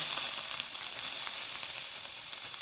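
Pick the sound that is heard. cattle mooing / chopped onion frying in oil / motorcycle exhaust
chopped onion frying in oil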